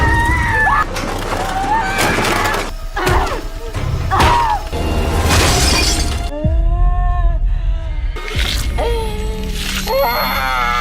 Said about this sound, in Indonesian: memecahkan kaca jendela dengan kepalanya